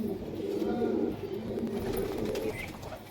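High-flyer pigeons coo in low, rolling, repeated phrases close by, a steady throaty burble running throughout.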